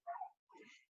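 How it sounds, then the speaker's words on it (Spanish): A pet dog gives two short, faint yips or barks indoors, briefly and alone. "perdonen mi perro"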